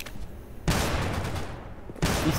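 Pistol fire in an online multiplayer shooter: two loud, harsh blasts about a second apart cut through constant noisy game sound.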